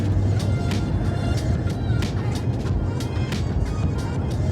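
Steady road and tire rumble inside a 2022 RAM 1500 pickup with a roof rack and light bars, a continuous low drone holding at a moderate level throughout with faint higher hiss above it.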